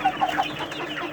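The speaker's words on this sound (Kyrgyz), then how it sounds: "3 күндүк жөжөлөр экен" Three-day-old chicks crowd a warm brooder on a meat chicken farm, cheeping in a dense, continuous chorus of close, overlapping peeps.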